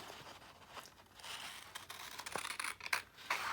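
Scissors snip through paper in a few quiet, irregular cuts, with soft rustling and scraping between the snips, close by.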